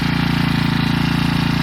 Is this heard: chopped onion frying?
no